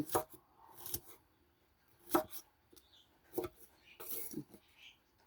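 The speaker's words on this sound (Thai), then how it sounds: "หั่นมะนาวให้เป็นชิ้นเล็กๆก่อน" Knife chopping lemons into small pieces on a cutting board outdoors, with a few sharp, well-spaced chops standing out close and clear against a quiet background.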